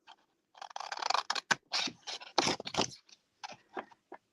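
Scissors snipping through vellum paper while cutting out an envelope shape for a journal, a quick run of close, crisp cuts and slides followed by a few sparse snips.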